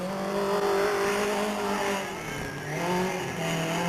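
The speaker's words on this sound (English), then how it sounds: "a combination of dune-mobile, sprint buggy, whatever you want to classify it as" A rear-engine dune buggy sprint car, a combination dune-mobile and sprint buggy, runs at Delta Speedway, its engine a loud steady drone that rises and falls in pitch as it circles the track, with no voices over it.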